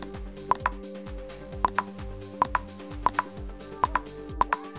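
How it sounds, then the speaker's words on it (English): A Mac app's button pop effect, made in Xcode, repeats as short, sharp double-clicked pops about every second over a quiet sustained tone, with no speech. "You can hear the pop"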